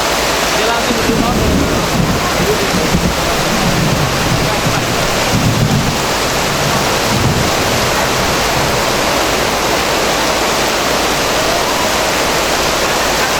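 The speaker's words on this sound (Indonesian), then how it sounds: "Alhamdulillah ini hujan berkah" Heavy rain pours down at an outdoor literacy festival with a group exercise session, a loud, dense, unbroken hiss filling the whole stretch, with a few low thuds and murmurs beneath it early on.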